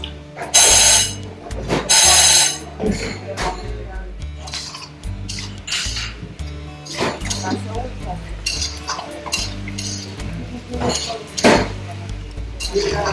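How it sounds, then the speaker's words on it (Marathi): Thalipeeth roasting in a pan and being flipped with a utensil, giving sharp metallic scrapes and clinks, two strong bursts early then lighter scraping, with people talking over it. "आता हे एका बाजूने थालीपीठ भाजत आलेलं आहे आणि त्याला ते आता उलटतायत दुसऱ्या बाजूने भाजून घेण्यासाठी"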